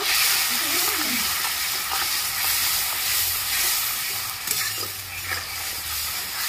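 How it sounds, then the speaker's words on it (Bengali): Chopped ginger, salt and spices fry in a pan, giving a continuous close sizzle with soft stirring scrapes and a faint low hum underneath. "মশলাটাকে ভালো করে কষিয়ে নিতে হবে"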